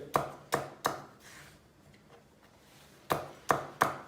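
A knife chops green beans on a board in sharp, evenly spaced strokes, three quick cuts, a pause, then three more, fairly close and quiet.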